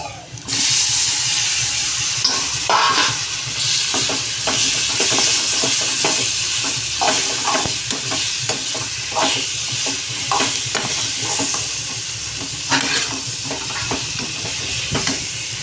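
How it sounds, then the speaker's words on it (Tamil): Tomatoes sauté with asafoetida in a pan: a continuous frying sizzle sits beneath busy, repeated scraping and stirring strokes, close and fairly loud throughout. "பெருங்காயத்தூள் போட்டோம், நல்லா வதக்கிடலாம். தக்காளி போட்டுக்கலாங்க."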